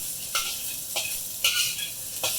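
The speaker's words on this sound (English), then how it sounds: "You can see the heat, the retained heat, and its return to that high stir frying level" Cabbage stir frying in hot oil, a steady sizzle punctuated by four sharp scraping strokes of a utensil against the pan.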